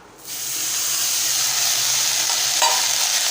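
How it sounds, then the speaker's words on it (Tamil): Curry leaves hit hot oil in a kadai and crackle into a loud, steady, close sizzle that starts abruptly and holds, with a small extra pop near the end and no talking. "இப்போ அதே கடாயிலேயே நம்ம எடுத்து வச்ச கருவேப்பிலையை சேர்த்துடலாம்"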